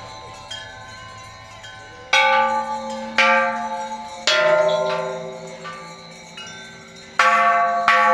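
Large bells ring out in a series of loud, resonant strikes, each leaving a long shimmering decay, close by and with no talking.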